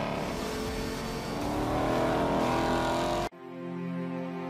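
A 2020 Dodge Challenger SRT Hellcat Redeye engine roars with a loud, rising rev. The sound cuts off abruptly and is followed by a steady, lower idle-like drone.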